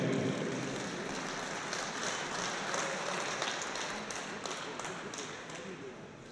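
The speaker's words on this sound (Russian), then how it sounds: "Давайте наградим их аплодисментами" A crowd applauds honoured guests at an MMA championship in Vladikavkaz, a steady dense wash of clapping filling the hall for several seconds before tapering slightly.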